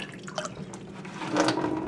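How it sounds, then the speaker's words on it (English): Water is poured into a container of sorghum kombucha, heard as a close, splashing, trickling stream that grows fuller and louder toward the end. "Now I'm going to add water"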